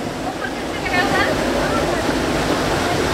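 The stream at Robber's Cave (Guchhupani) in Dehradun gushes and flows in a steady, close, broadband rush of water, with faint voices in the background.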